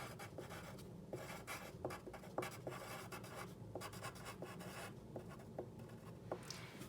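A pen scratches across paper as a compliment is written out, a close, quiet run of short rhythmic strokes with small taps, and no voices.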